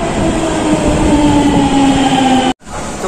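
Metro train riding: a loud, steady rumble of the carriage in motion with a humming tone, cut off abruptly near the end.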